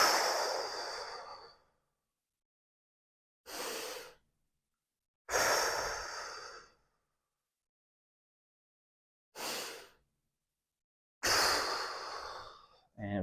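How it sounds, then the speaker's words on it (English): Deep breaths during a stretching and mobility session, five loud, close inhales and exhales separated by silent pauses, each lasting about a second or more, with no talking. "Big deep breath in."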